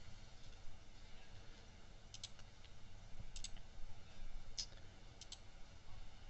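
A few faint, crisp computer mouse clicks in a quiet room, single and double taps spaced irregularly over a soft background hum.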